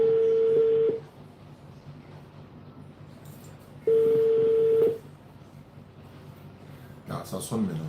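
Telephone keypad tones sound as two long steady beeps, each about a second, separated by a pause and followed by a brief burst of ringing as a call connects, with faint background noise and a voice starting at the end.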